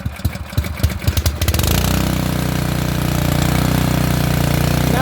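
A petrol engine on a pressure washer takes a few sputtering pull-start attempts, then catches and settles into a loud, steady running drone close by.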